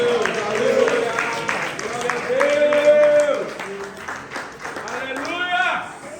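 A church congregation claps hands in praise during a Sunday service, steady applause-like clapping running under loud voices and singing-like exclamations throughout.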